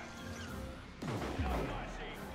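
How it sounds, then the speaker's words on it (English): Plasma cannons fire in a Dawn of War 2: Retribution battle, a sudden heavy blast with a falling whoosh over a busy din of combat, while a commentator talks throughout. "Double plasma cannons setting up."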